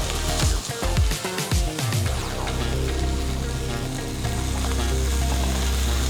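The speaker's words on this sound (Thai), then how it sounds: "เรียบร้อยแล้วครับสำหรับการทอดปลาส้มนะ ขอเร่งไปนิดนึงเพื่อจะให้แบบว่า ลายน้ำมันนิดหน่อย" Som fish, a sour fermented fish, frying in oil in a pan: a steady, loud sizzle with crackling pops, busier and choppier at first, then settling into an even hiss.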